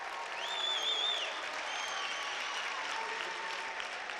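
A high school boys basketball crowd cheers and applauds in a gym, broad steady roar with a few shrill whistles early on, filling the whole stretch without speech.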